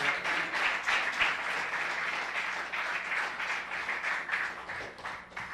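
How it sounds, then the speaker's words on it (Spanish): A church congregation applauds steadily for several seconds, a dense, even wash of many hands clapping together at close range with no talk over it. "Dele un aplauso al Señor, hermano, mientras yo agarro agua."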